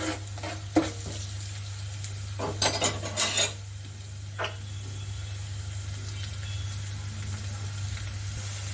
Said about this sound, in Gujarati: તો આપણા કાંદા થોડા સતળાઈ ગયા છે